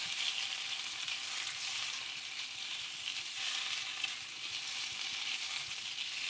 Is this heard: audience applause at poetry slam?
no